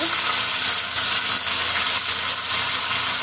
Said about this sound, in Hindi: अपने जो भी हमने टमाटर, अदरक और हरी मिर्च काट के रखे हुए हैं वो सब इसमें डाल देंगे